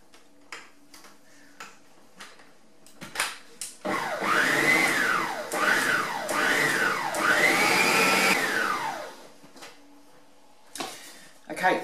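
Electric food mixer beating cookie dough for chocolate chip cookies, a loud steady whir with rising and falling pitch sweeps lasting several seconds, preceded and followed by clicks, taps and handling noises.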